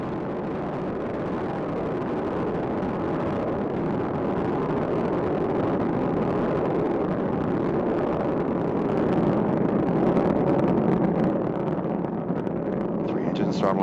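The three engines of Space Shuttle Endeavour, on the STS-126 launch, roar in a steady broadband rumble during ascent as they throttle down through maximum aerodynamic pressure. The roar is continuous and loud throughout, with a commentator's voice over it.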